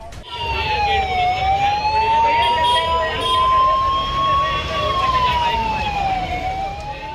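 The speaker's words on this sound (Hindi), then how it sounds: "पूरी धर्म नगरी में चारों तरफ एम्बुलेंस के सायरन बजते सुनाई देने लगे" A loud wailing ambulance siren sweeps slowly up and down, close by and continuous, with traffic rumble beneath it, after a stampede on the Mansa Devi main road in Uttarakhand.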